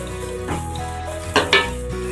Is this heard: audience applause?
no